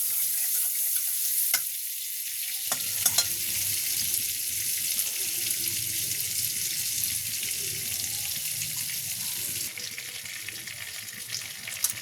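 Cinnamon and cloves fry in butter in a wok for fried rice, giving a soft continuous hiss and crackle with a few sharp clinks early on, steady and fairly quiet throughout.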